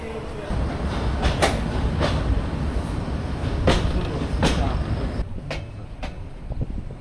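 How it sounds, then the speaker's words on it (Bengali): Meghna Express train pulls away from a station stop, a steady heavy rumble with metallic clanks and rhythmic clicks of the wagons, loud and close, easing slightly toward the end. "আবারও ট্রেন 1 মিনিটের মতো বিরতি দিয়েই ট্রেন ছেড়ে দিল।"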